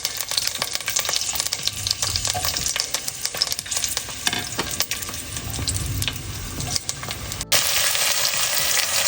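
Dried red chillies and green chillies fry in a pot for a cauliflower tomato kurma, giving a dense, continuous crackling sizzle with spattering pops and the occasional stir, loud and close with no talking.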